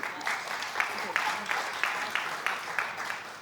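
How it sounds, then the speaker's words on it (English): Audience applause at a conference panel on gender-just climate solutions, a steady wash of many hands clapping for a few seconds at moderate, even loudness. "big round of applause"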